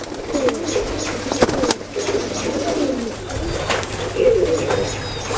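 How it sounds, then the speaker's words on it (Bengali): Pigeons coo nearby in repeated soft, throaty warbles, a few separate bursts with short pauses, with faint clicks and rustles around them. "সুন্দর দুইটা কবুতর দেখতে পাচ্ছি কালো এবং সাদা মিশ্রিত"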